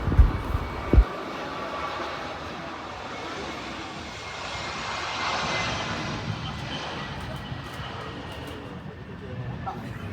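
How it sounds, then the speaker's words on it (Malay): An airplane at Kuala Lumpur airport fills the air with a broad, steady engine roar that swells gently in the middle. A couple of sharp knocks sound close by at the start. "Nampak baik kapal terbang."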